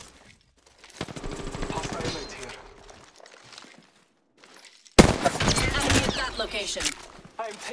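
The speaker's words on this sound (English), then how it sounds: "I am taking fire." Gunfire in the shooter game Apex Legends, rapid automatic bursts crackling in two loud stretches separated by a quiet gap, with voices talking over parts of the action.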